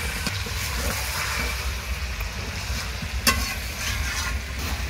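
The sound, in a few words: stirring chicken with fried onion and potato in pan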